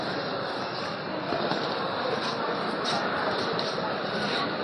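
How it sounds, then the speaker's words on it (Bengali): Train pulling into Chennai Central railway station, a broad steady rumble and hiss of rolling carriages filling the platform with no clear voices over it. "ট্রেন আসলো"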